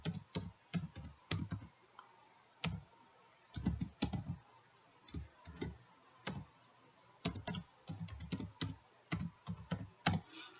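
An email address being typed on a computer keyboard: bursts of quiet, close key clicks in short irregular runs separated by brief pauses, with no voices.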